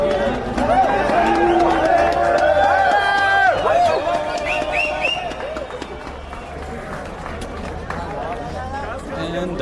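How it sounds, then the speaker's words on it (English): Crowd cheering and shouting at the start of the Tarnovo Ultra 2025 mountain bike race, a loud burst of many voices close by that eases off after a few seconds into scattered calls and murmur. "People are cheering and are riding on their bikes"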